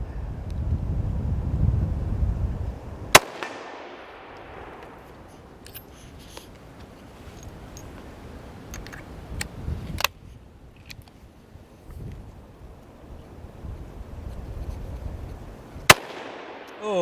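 A Henry single shot rifle chambered in .308 fires outdoors, giving a sharp, sudden report over steady wind noise. Fainter sharp cracks or clicks follow later, with low rumbling between them.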